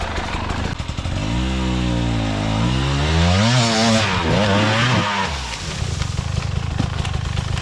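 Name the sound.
KTM hard enduro motorcycle riding up a trail climb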